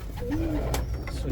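Young racing pigeons coo inside a loft, with a soft rolling coo rising in the middle of the moment amid a low steady background hum and faint rustling.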